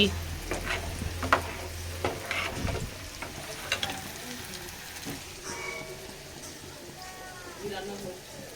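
Dal lentils sizzle and fry in a pan as a utensil stirs and scrapes them in uneven strokes, with the hiss continuing steadily and a voice talking over the cooking.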